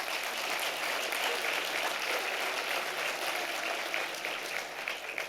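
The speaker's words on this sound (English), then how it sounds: "I want to start with a round of applause again for my co-host, Dan, my co-honoree, Dan." A dinner audience at the 2023 Bernard Baruch Dinner bursts into steady, sustained clapping that fills the room evenly for several seconds and fades slightly near the end, with no talking over it.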